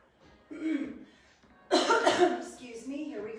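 A person coughs a couple of times nearby, followed by a short throat-clearing sound with some voiced breath.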